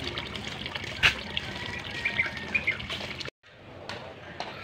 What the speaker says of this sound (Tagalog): Ito naman doon ang tubig.